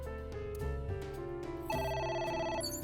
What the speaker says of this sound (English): Oh, hello. A phone. Should I pick it up?